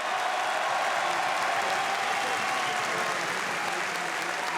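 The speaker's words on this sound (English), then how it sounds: "j'ai envie de refaire des applaudissements pour cette guerre exceptionnelle que vous avez livrée" Sustained, dense audience applause for an MMA fighter after a fight at the Zénith, a steady loud wash of clapping from a large arena crowd with no break.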